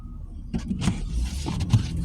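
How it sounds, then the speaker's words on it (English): Large snow plow truck rolling past on a snowy road during a winter snowstorm in Enola, Pennsylvania: a low engine rumble with a few dull clunks, fairly close. "Wow, look at the size of that thing. The plow."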